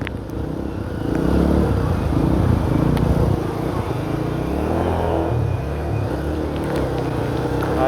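A motorcycle engine drones steadily while deep floodwater churns and splashes around its submerged wheels, loud and close, with faint voices underneath, on a flooded street in Caloocan.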